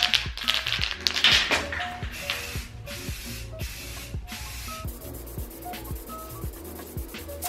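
Spray can applying filler primer to a 3D printed R2-D2 dome, with hissing bursts of spray strongest early on, mixed with tapping and clicking handling sounds throughout.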